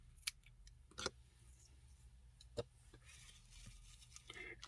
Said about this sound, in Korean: 이렇게 뜨시고 또 꼬리실을 잘라주세요.